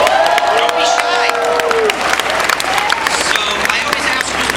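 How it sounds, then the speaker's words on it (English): Comic Con panel audience in Honolulu applauding and cheering, loud dense clapping mixed with whoops and shouted voices from the crowd, sustained across the whole stretch. "you can clap, go! Don't be shy."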